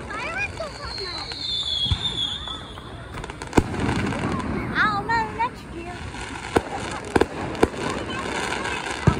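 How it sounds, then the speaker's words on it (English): Fourth of July fireworks pop and crackle at a distance in scattered sharp bursts and whistles, with people talking and exclaiming nearby over the top. "Those are the pre-fireworks."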